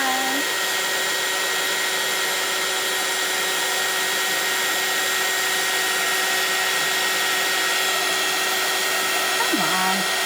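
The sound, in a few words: heat tool melting embossing powder on a card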